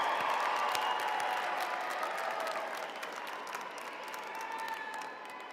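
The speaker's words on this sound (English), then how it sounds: "Big round of applause." Big crowd applause and cheering at a campus graduation ceremony, a dense, steady wash of clapping from a large audience with some whooping, slowly easing toward the end.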